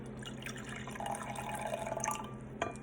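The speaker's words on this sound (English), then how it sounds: "I'm going to pour in my water" Hot water trickles and drips into a measuring cup, a faint close pour with soft splashing and a small clink near the end.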